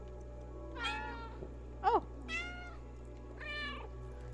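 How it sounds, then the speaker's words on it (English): Several cat meows from the video game Stray, three longer harmonic calls spread across a few seconds with a short higher squeak between them, moderately loud over a steady low background hum, with a brief spoken exclamation. "Circle meows."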